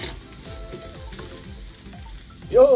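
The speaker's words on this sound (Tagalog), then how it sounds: "Haluin lang natin na ito, no, saka para maluto, uminit uli yung ating bopis" Bopis fried rice sizzling in a pan while being stirred, a constant frying hiss with repeated scraping strokes of the spatula and a sharper clatter at the end, with no one talking.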